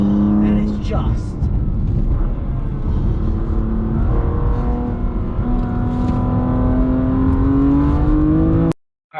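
A BMW M2 engine revs while driving on back roads, its note climbing smoothly in pitch over several seconds, loud and near, with a voice talking over it before it cuts off abruptly.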